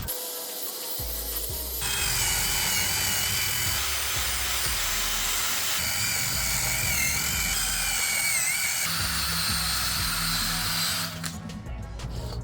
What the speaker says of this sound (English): Get you some sort of wire wheel, and you just gotta go at it.